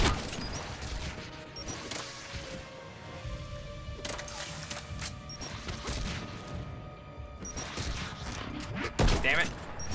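Rapid bursts of gunfire from a Mass Effect 3 battle, with repeated sharp shots and crashes throughout, growing denser and louder near the end, with faint game music beneath.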